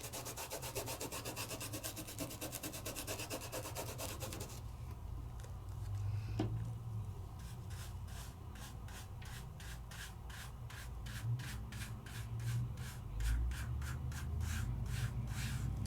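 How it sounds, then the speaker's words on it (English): A tool burnishes over a paper layer in a papercraft project, giving fast, steady back-and-forth rubbing strokes, close and quiet, with a brief pause before the rhythmic scraping resumes. "I'm rubbing right over the top of my first layer, and I can do that"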